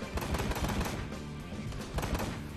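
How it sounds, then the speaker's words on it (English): A dense, continuous barrage of gunfire in the video game Ride to Hell: Retribution, rattling rapidly and evenly at moderate loudness with no clear pauses. "That is a whole lot of bullets all up in your ass"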